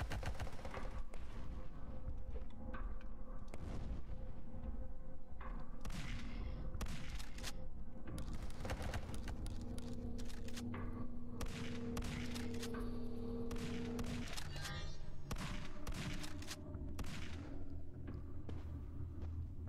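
Dense, continuous rattling gunfire mixed with heavy booming grenade explosions in the 90s-style FPS Zortch, loud and chaotic throughout with bursts stacking over one another.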